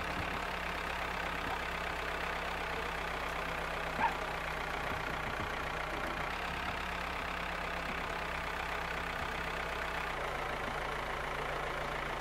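Tractor engine in the farming game Farmer's Life, a steady low idling drone with mid-range rumble running continuously throughout, constant level with no speech.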